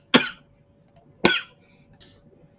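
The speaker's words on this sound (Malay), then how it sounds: "Oi, terbatuk-batuk member." Two sharp coughs from a person about a second apart, fairly close and loud, followed by a fainter breathy throat noise, with no talking.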